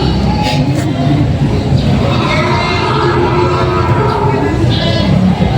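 A goat giving birth in a parking area in Padre Garcia, Batangas, bleats repeatedly amid a loud, busy outdoor crowd, with people talking close by throughout.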